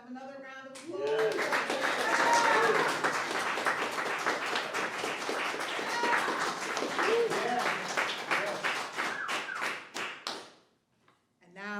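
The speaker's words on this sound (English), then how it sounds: "Let's have another round of applause." Audience applause at a live jazz trio and poetry reading event: dense, steady clapping from a crowd lasting about ten seconds, then fading out abruptly.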